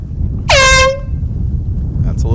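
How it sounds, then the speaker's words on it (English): Air horn sounding the three-minute start signal at the 73rd Annual Thanksgiving powerboat regatta: one loud, blaring half-second blast that cuts off sharply, followed by quieter background noise and faint voices. "Next sound you hear, your 3-minute gun."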